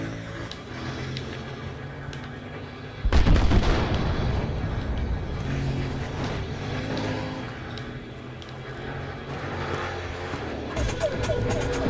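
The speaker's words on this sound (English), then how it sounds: "Okay, I better get out of that and do some shooting." Gunfire and blasts in the video game Battlefield Hardline, a loud burst from about three seconds in over a dense layer of engine and combat noise, with someone talking throughout.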